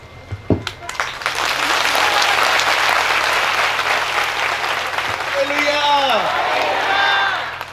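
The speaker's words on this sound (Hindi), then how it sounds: "जब भी अंकल जेम्स राम के लिए, पास्टर सूरज प्रेमानी के लिए, किसी के लिए भी ताली बजानी हो तो ऐसे बजाया करो" A church congregation claps loudly in a dense burst that runs for several seconds after a couple of sharp opening claps, with a few voices calling out near the end.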